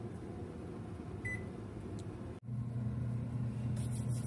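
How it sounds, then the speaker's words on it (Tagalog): A steady air fryer whir and hum runs throughout, frying potatoes and carrots, with a faint early beep and a brief dropout midway before the whirring resumes. "Lalagay natin sa air fryer para maprito."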